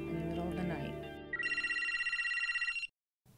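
A telephone rings in a steady trilling burst after some muffled talk, then cuts off abruptly into silence.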